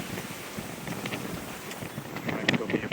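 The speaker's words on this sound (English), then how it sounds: "And winds are in the 20s, waves are a little confused." Steady wind rushes over the microphone on a sailboat passage from Tenerife to Cape Verde in 20-knot winds, with a broad wash of sea and waves and occasional knocks, continuous and moderately loud throughout.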